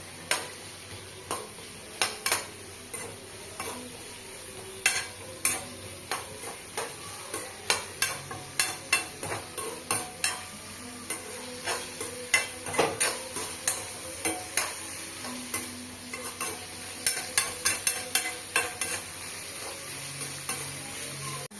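A spoon scrapes and clacks repeatedly against a kadai while ingredients for a crab and prawn dish sauté and sizzle steadily underneath. The strikes are close and irregular.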